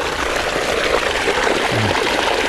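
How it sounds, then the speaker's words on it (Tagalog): River water runs steadily through an irrigation channel among calamansi trees, a continuous close rushing and trickling flow with no pauses. "Ayan, malakas naman po yung patubig natin, dire-diretso."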